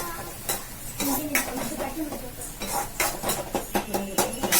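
Ingredients sauté in a pan with a low continuous sizzle, broken by a series of sharp spatula scrapes and clanks against the pan at an uneven rhythm, close and fairly loud.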